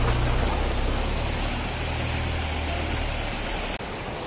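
A waterfall near Naddi, above Mcleodganj in Himachal Pradesh, sends out a steady, close rushing hiss of flowing water that holds even and unbroken throughout, with no voices.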